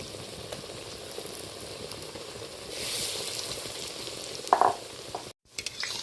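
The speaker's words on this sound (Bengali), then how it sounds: "এইভাবে একটু মুছে তেলের মধ্যে ছেড়ে দেবো পরপর করে তিনটা চুবিয়েছিলাম বেসনের মধ্যে তিনটাই ছেড়ে দিচ্ছি" Pumpkin flowers dipped in gram-flour batter fry as pakoras in hot oil, giving a steady close sizzle that swells briefly as pieces drop in, with a few louder bursts and a short cut near the end.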